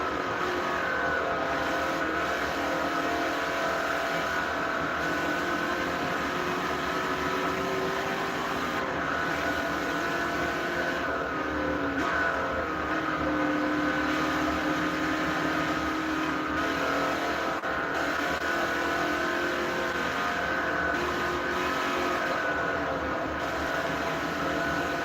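Race car engines drone steadily through a lap in the Xbox 360 game Forza Motorsport 4, a continuous mid-level roar of revving and shifting with no pauses.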